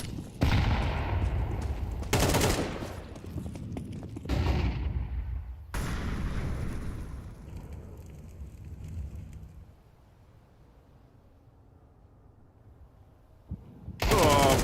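Rapid bursts of rifle fire and heavy gunshots crack in a Counter-Strike match at the BLAST Premier Open London, several loud volleys over about nine seconds before dying to a low ambient rumble, then a voice at the end.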